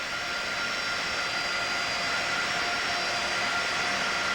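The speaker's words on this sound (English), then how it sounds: "you can now see the plane has landed just behind us" Jet airliner carrying Pope John Paul II after landing at night in Canada in 1987, a steady loud broadband engine roar with a whining high tone, continuous and close throughout.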